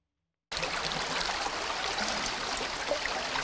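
Rising floodwater in a river swelled by flooding rushes in a steady, dense broadband roar, its current carrying debris and heavy logs, continuous and close after a brief silent start.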